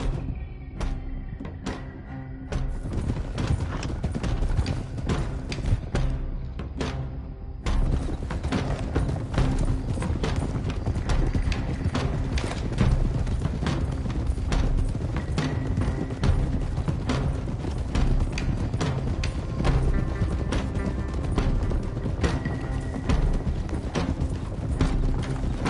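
Horses' hooves clip-clop in Red Dead Redemption 2, a dense, steady beat of many riders close by, with occasional whinnies over a loud game soundscape.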